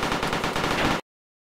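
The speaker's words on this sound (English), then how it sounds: "Who's shooting? This dude is literally hands up shooting me." Rapid automatic gunfire in DayZ PvP combat, a dense, loud burst of about a second of evenly spaced shots that cuts off abruptly into silence.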